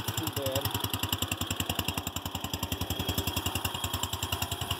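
A Wheel Horse lawn tractor engine runs steadily with the choke on at higher throttle, fresh oil just added, a close, even, rapid chugging pulse that holds throughout with a brief faint voice.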